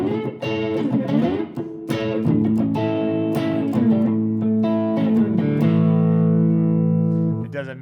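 Major chord inversions strummed and picked up the neck on a guitar, played clean with rich ringing chords that change every second or so, close and loud throughout with no talk.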